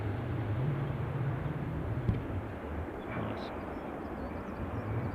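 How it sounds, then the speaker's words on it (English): A Ryanair Boeing 737 arriving at Newcastle airport produces a steady, distant, fairly faint jet roar, with a brief click partway through. "this is the 737 Ryanair from Gdansk."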